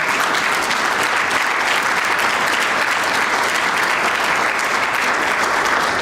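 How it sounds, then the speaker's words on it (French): An audience at a Benin National Lottery event applauds the lottery director, a dense, steady wash of many hands clapping that stays loud and unbroken for the whole stretch. "je voudrais commencer par le féliciter, demander de l'applaudir encore une fois"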